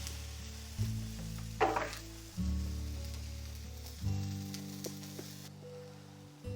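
Meat browns in a hot pan with a steady sizzle and frying crackle, broken by a few louder surges as the pieces are stirred or moved.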